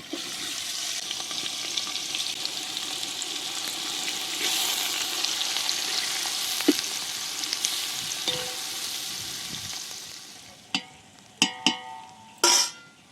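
Whole spices, asafoetida and onion frying in hot oil for a traditional Konkan mutton dish, a loud, steady close sizzle that later drops away into a few sharp clanks of a utensil against the pot.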